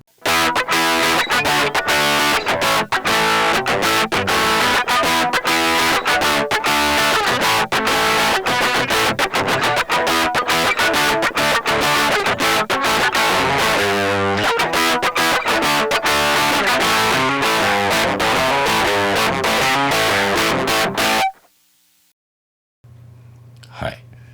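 Distorted electric guitar played on the front pickup and recorded for amp modeling, loud and dense with continuous strummed chords, ending abruptly in near silence with a faint low hum.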